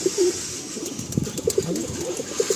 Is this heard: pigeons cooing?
yes